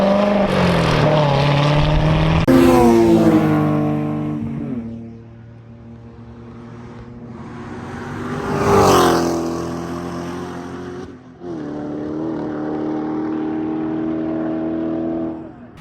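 A C706 race car running laps at a track day, its engine note sweeping up and down in pitch as it passes, loud and close with a surge near the middle, no talk over it.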